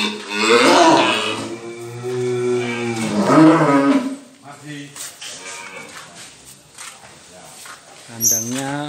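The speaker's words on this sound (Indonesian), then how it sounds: "kita lihat-lihat sapi." Cattle in a clean livestock pen for Qurban sacrifice low in pitch with drawn-out moos, two long calls in the first half and a shorter one near the end, fairly close and loud with quieter pen noise between.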